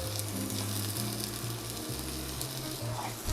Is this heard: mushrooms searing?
yes